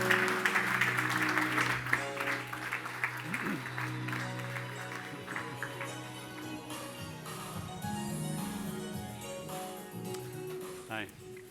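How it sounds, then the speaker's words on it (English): An audience at a masterclass applauds Bill Britten, a former BBC movie director, with a burst of clapping that starts strong and then thins, while steady tonal sound plays underneath. "big applause, please, for Bill Britten"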